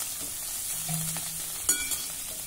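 Turmeric and chopped coriander go into a hot tempering in a pan, giving a soft, steady sizzle with a small crackle partway through.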